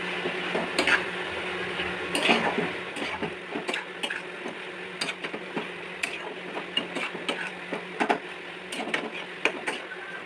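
Spice paste being mixed in a bowl for a ridge gourd and potato poppy-seed dish, producing irregular soft clicks, taps and scraping against the bowl throughout, close and fairly quiet.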